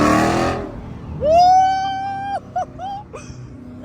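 A Dodge Hellcat or SRT muscle car revs hard in a parking-lot takeover, a loud rising engine roar that holds steady for about a second, then cuts into several short sharp blips.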